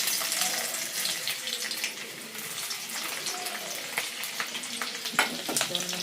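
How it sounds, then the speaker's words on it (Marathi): Finely chopped ginger and garlic fry in hot oil with a loud, dense crackling sizzle and intermittent stirring sounds, close up. "तर आपण आता त्याच्यामध्ये अद्रक लसूण बारीक कट केलेलं घालून घेऊया."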